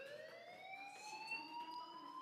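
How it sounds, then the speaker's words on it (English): A fire alarm rings in the video game Life is Strange, a continuous rising electronic tone that sounds steady and fairly faint, heard alone. "Hey, do you hear that fire alarm?"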